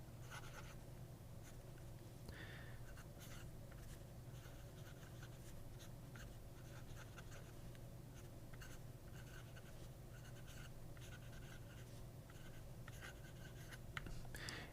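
A pen writes on thin Tomoe River paper, producing a continuous close scratching with quick strokes and brief pauses. It is faint and steady throughout, with no voices.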